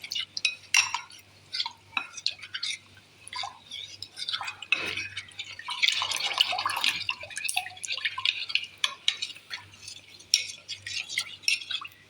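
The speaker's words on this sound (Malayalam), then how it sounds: "കട്ട കൂടാതെ കട്ട ഒന്നും പിടിക്കാതെ നല്ലോണം കലക്കിയെടുക്കാം" A thick mixture is whisked or stirred in a bowl until smooth and lump-free, with quick clinking and wet dripping scrapes repeating near and moderately loud, with no voices over it.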